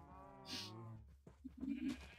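Sheep on a farm in the video game Minecraft bleat in a few short, wavering calls, moderately close and alone.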